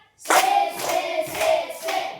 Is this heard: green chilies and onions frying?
no